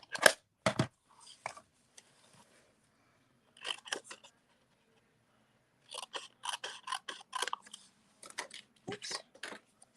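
Scissors fussy cut a stamped paper sentiment in short bursts of close, crisp snipping clicks, with pauses between clusters and a denser run of cuts in the second half.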